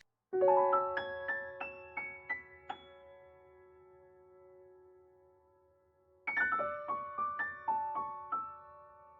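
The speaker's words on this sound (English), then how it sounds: "So the next thing I added was another piano" A loose, high-register piano line for a jazz-style sample, following the sixth and fourth chords, plays a run of bright struck notes, rings out into a sustained decay, then starts a second phrase of quick notes, close and clear with no voices.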